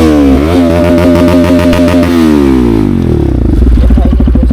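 A Kawasaki Z900 four-cylinder motorcycle revs very loudly and close, its roar sweeping up and then falling back into a rough, pulsing idle.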